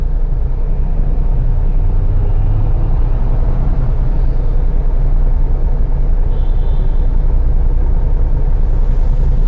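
Steady dense traffic rumble at a busy intersection in Maros, South Sulawesi, Indonesia, with continuous engine and road noise from passing cars and motorbikes, loud and close, no talk.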